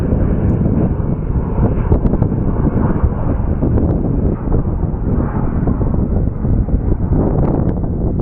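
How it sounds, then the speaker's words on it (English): Heavy wind buffets the microphone outdoors at Sky Harbor Airport, a dense low roar and rumble with constant gusty fluctuation throughout and no clear speech. "Yeah, it's super windy"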